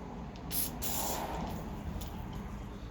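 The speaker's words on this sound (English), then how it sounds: "Spray it on your Scotch-Brite." A steady aerosol spray of lubricant hisses onto a Scotch-Brite pad for a few seconds close by, with a few short extra bursts, no voices.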